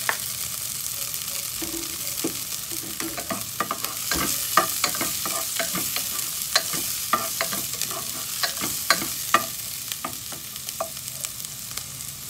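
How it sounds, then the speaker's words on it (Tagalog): Long green chili peppers are sautéed with shrimp paste, a loud steady frying sizzle heard close up alongside frequent sharp clicks and scrapes of stirring. No voices are heard. "habang tayo naggigisa ng ating mga ingredients"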